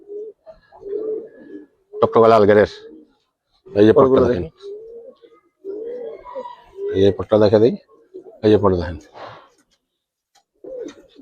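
Giribaz colouring pigeons at a Bangladeshi pigeon keeper's coo softly in low, throaty rolls between bursts of a man's close, loud talking, which dominates the stretch.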